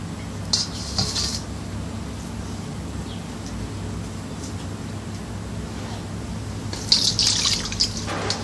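Coconut water splashes and drips into a bowl in two short bursts, separated by a quieter stretch of low background hum.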